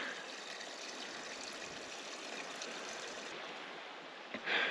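Mountain stream in the White River National Forest high country, swollen with a heavy season's flow, rushing steadily as a constant broadband wash with no voices, ending in a brief bump near the close.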